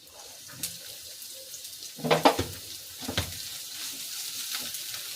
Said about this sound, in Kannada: ಈರುಳ್ಳಿ ಒಂದು ಸ್ವಲ್ಪ ಕೆಂಪಿಗೆ ಫ್ರೈ ಆಗಲಿ